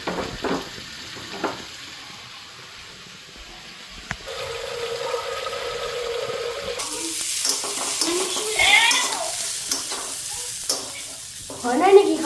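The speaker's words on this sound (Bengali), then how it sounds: "এই যে আলুটা ভাজলাম, আলু গাজর বিনসটা" Potato, carrot and beans fry in a pan as they are stirred, with a loud sizzle and repeated scraping of the spoon. Earlier comes a quieter stretch with water-like hiss and a few knocks.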